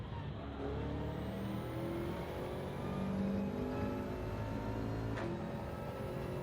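A race car engine in Gran Turismo 7 drones steadily at close range, holding a loud, sustained tone through a corner with slight pitch shifts and no voices.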